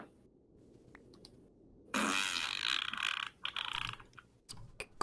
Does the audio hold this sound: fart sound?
yes